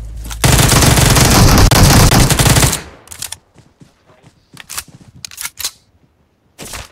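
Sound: gunfire in PUBG Mobile video game

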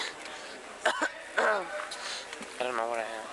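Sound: cough

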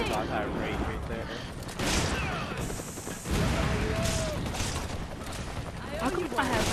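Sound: gunfire in Resident Evil 5 versus video game

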